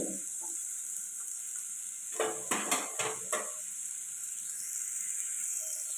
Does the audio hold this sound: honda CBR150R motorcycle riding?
no